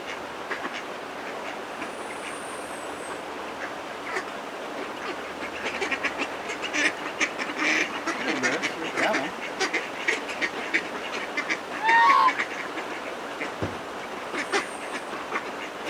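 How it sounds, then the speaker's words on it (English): Ducks quack outdoors at a winery during a wedding outing, scattered calls mixed into steady, broadband background noise with no clear talk. "The ducks, they all followed us here."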